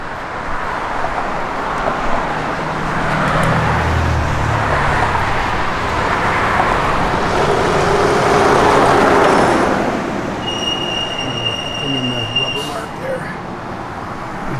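A 1967 Chevrolet Camaro RS/SS engine starts, then idles and revs in a steady rumble close by, with broadband roadway-like noise and some high whine near the end.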